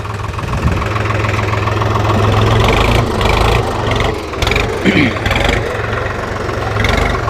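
A New Holland TT3.50 tractor engine rumbles and idles nearby with a steady low drone and rattling, while someone talks over it.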